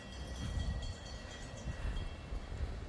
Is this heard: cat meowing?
no